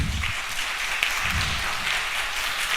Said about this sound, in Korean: 미스터 정, 박수로 모시겠습니다.